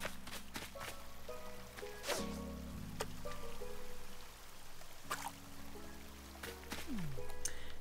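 Steady soft rain patters in the video game Animal Crossing: New Horizons, a faint even hiss beneath game music tones and occasional short clicks and swishes.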